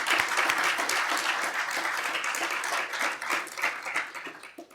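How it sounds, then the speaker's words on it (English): Audience applause at a police chief swearing-in ceremony, a dense burst of clapping from a sizable crowd that holds steady and then gradually thins and fades toward the end. "If you would give them a round of applause, please."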